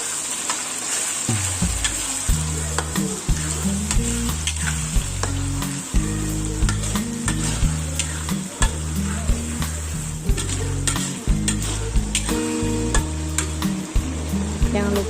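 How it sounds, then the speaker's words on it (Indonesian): Chili mixture for Padang-style dendeng batokok sizzling and being stirred in a pan, a steady loud frying hiss with intermittent scraping stirs throughout, no talking. "Kemudian diaduk lagi sampai cabenya masak."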